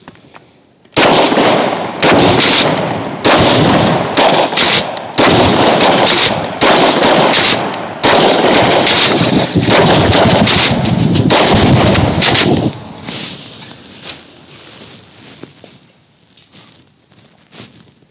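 Rapid bursts of DP-12 shotgun fire with buckshot in a video game, a dense run of loud, overlapping blasts lasting about twelve seconds before fading into quieter rumbling echoes.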